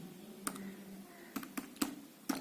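A few quiet, separate key clicks sound as a command is typed on a computer keyboard, spaced irregularly over a faint background hum.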